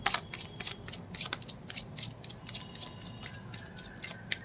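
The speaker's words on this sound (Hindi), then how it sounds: "This is my last shuffle." Tarot cards shuffled by hand in a dense, riffling rhythm of quick papery flicks and slaps, close and fairly quiet, with no talking.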